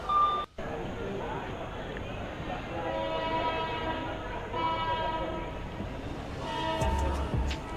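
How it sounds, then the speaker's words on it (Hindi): A train pulls out of Gondia Junction railway station in India, a steady rumble of rolling stock and rail noise with sustained horn-like tones, voices talking over it. "तो दोस्तों हमारा डिपार्चर हो चुका है गोंदिया जंक्शन रेलवे स्टेशन से"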